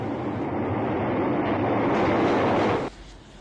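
A subway train roars through a tunnel in The Warriors, a loud, steady rushing rumble with a faint rhythmic rattle that cuts off abruptly near the end, leaving a low hum.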